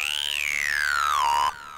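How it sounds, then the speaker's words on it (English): Synthesizer tone on a Vanguard virtual analog synth with filter drive distortion and high resonance, a loud screaming, gritty sweep gliding steadily downward for about one and a half seconds before cutting off abruptly. "That's distortion. Internal distortion."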